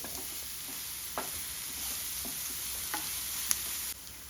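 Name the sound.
stirring chicken with ginger-garlic paste and turmeric in pan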